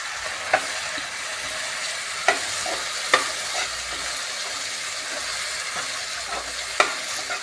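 Onions and green garlic leaves fry in a pan with a steady, close sizzle, broken by a few sharp clicks of a utensil stirring against the metal; no one speaks.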